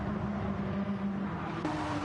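Porsche race cars in a sim racing league game, a steady droning engine note with a brief shift near the end, close and fairly loud.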